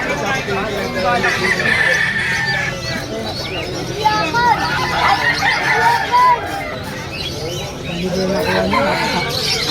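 Chickens cluck and squawk close by amid a lively crowd of chattering voices, with a rooster crowing in the mix, at a pet market in Malabon.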